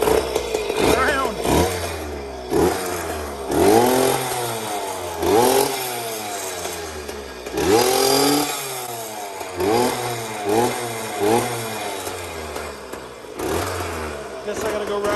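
A Yamaha Blaster ATV engine, previously suffering a no-spark fault and running on old brown fuel, revs up and down repeatedly in uneven bursts, close and loud, with someone talking over it.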